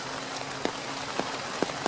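Steady autumn rain falls evenly on a surface as a dense, continuous patter, with a few slightly louder drops standing out, and no voices.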